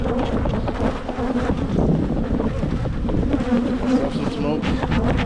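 Honeybees pour out of a hive being smoked during a January check, making a thick, close buzzing swarm sound that stays loud the whole time, with some rough wind-like rumble mixed in.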